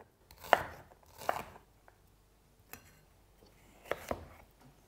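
A knife chopping ingredients on a board for Crimean Tatar mercimek soup: several quick, crisp cuts in small irregular clusters, close and fairly quiet, with no talking.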